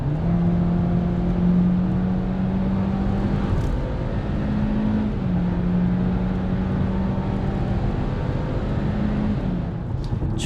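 A new Hyundai Avante engine drones loudly and steadily while accelerating during a drive, its hum stepping up in pitch through gear changes with constant road and cabin noise.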